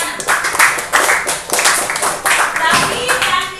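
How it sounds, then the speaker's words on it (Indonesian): Students in a sixth-grade classroom clap in quick, uneven bursts close by, with brief children's voices mixed in. "tepuk tangan buat Ersiana."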